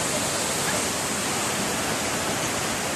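Floodwater from a river swollen after a typhoon rushes past in a steady, dense roar, loud and close throughout with no pauses.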